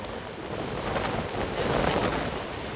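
Steady, large ocean waves roar and wash continuously after a super typhoon, swelling a little midway, with wind buffeting the microphone throughout.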